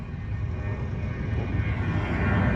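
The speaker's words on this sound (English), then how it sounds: "Aeroplane as well." An aeroplane flies overhead outdoors by a grassy field, a steady, loud broadband roar that holds throughout with no speech over it.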